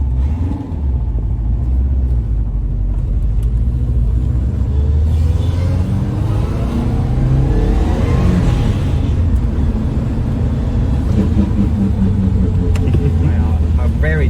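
A Subaru Impreza 22B STi, a JDM car, idles and revs inside the cabin with a steady low engine rumble. Its pitch swells mid-clip as the revs climb, and people talk over it.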